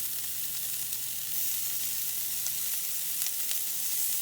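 Crumbled sausage sizzles steadily in a frying pan, a close, even hiss with faint crackles throughout and no talking.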